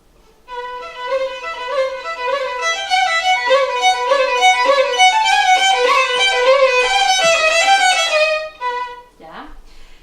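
Fiocco's Allegro played forte with mordent ornaments: a bright solo line of quick, ornamented notes runs steadily for about eight seconds, then stops before a brief trailing sound.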